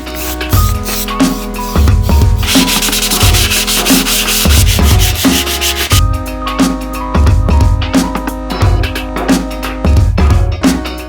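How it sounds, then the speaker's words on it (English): Rhythmic scraping of sanding across a hard Mitsubishi car body panel, repeated back-and-forth strokes, loud and close, with a steady hum beneath. "we started sanding all the parts down ready for paint"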